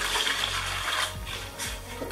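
Measured water poured into a bucket for mixing grout makes a continuous close splashing gush that fades near the end, with a few soft knocks from the bucket and no talking.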